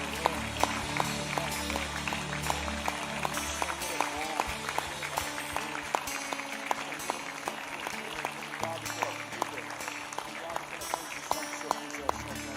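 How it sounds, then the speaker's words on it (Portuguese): A church congregation claps along in steady rhythm during evening worship, sharp repeated claps over sustained music and voices in a reverberant hall. "Você pode aplaudir ao Senhor e adorá-lo nessa noite,"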